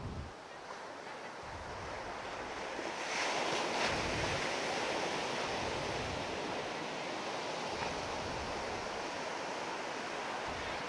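Steady roar of ocean surf washing onto Santolo Beach in South Garut, continuous and fairly loud, with some wind noise and no clear talking.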